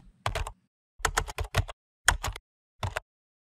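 Computer keyboard typing a terminal command, heard as four short bursts of rapid, close, crisp key clicks separated by brief silences, with no talking.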